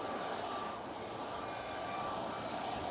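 A Canadian C-130 Hercules departs Manchester Airport during Storm Amy, its turboprop engines giving a distant, steady broadband roar that holds at an even level throughout, with wind noise underneath.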